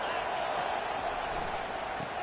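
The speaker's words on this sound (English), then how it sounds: "This crowd trying to make life miserable for this offense." Stadium crowd noise in a college football video game, Washington versus Wisconsin, rising as a steady, loud roar that fills the whole stretch without a break.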